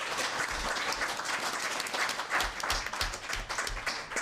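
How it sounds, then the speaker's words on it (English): A round of audience applause for Sheila at a local Labour meeting on tackling violence against women and girls, a modest room of steady clapping at moderate level, no talk over it. "So a big round of applause for Sheila as well."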